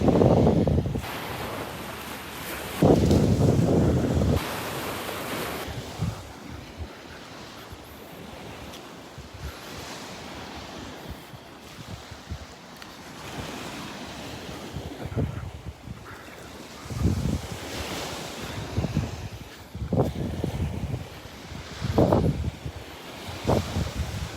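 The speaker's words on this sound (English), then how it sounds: "We're on Vanderbilt Beach now, the north end of Vanderbilt Beach." Surf washing ashore at the north end of Vanderbilt Beach near Delnor-Wiggins, with waves breaking in irregular bursts amid gusty wind buffeting the microphone, moderately loud and without talk.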